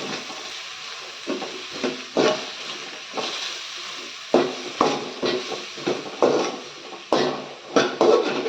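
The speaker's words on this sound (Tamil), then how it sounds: "அடுப்பை ஸ்லோவில் வச்சுட்டு இந்த மாதிரி ஸ்க்ராம்பிள் பண்ணி விட்டுட்டே இருங்க" A spatula scrapes and taps repeatedly against a pan while a capsicum and egg mixture is scrambled over low heat, producing irregular close clinks and scrapes at a moderate level.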